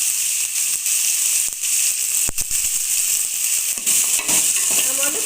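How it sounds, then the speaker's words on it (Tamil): Small shallots, ginger and garlic sautéing for a mutton intestine curry, giving a loud, steady hiss of frying close up, broken by a few sharp utensil knocks and scrapes. "வெங்காயம், இஞ்சி, பூண்டு. இஞ்சி ஒரு கட்டை, வெங்காயம் ஒரு 1/4 கிலோ சின்ன வெங்காயம், இஞ்சி ஒரு துண்டு, எல்லாமே நல்லா வதக்கி எடுத்துக்கலாம்."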